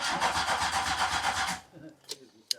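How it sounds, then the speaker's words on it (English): A Volkswagen MK2 Golf GTI engine cranking, with a rhythmic starter churn for about a second and a half, then stopping and leaving a few faint clicks and knocks, fairly close. "when we start the car"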